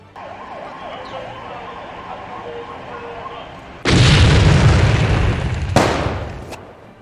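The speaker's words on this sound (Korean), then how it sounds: "이차 폭발이 있었습니다." A simulated secondary explosion during a Songpa fire department emergency response drill: a wailing siren gives way to a sudden loud, rumbling blast, then a second sharp crack that fades out.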